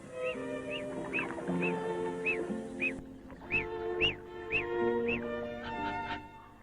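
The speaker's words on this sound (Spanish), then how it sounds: "Este pato ha sido aislado desde su nacimiento de otros miembros de su especie" A duck raised in isolation from its own species quacks in a series of about a dozen short, evenly spaced calls, close and clear over soft background noise.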